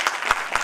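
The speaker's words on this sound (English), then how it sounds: "Still, I would like to clap for all the very," Audience clapping for very small playgroup and nursery children at a school annual day, a short burst of scattered hand claps with a few sharper accents, steady and moderately loud.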